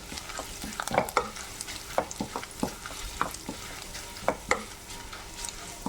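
Curry leaves crackle and spit as they fry in a pan of oil for a Kerala chicken pickle, with sharp irregular pops and stirring scrapes over a steady low sizzle, close and moderately loud.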